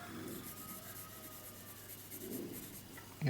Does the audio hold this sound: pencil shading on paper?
yes